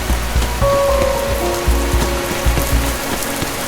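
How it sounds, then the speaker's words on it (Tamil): Rain begins to fall, a steady close patter of drops on a surface with a few low thuds and a faint tonal hum underneath. "அந்த நேரத்தில் மழை பெய்ய தொடங்கியது."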